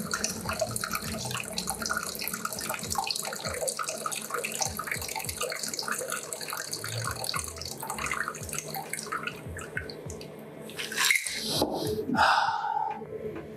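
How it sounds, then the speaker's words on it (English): Shaken rum cocktail poured from a shaker into a glass, a continuous close splashing trickle that runs for most of the stretch and ends in a few final drips, with a faint voice briefly near the end. "And then it's as simple as pouring out your drink."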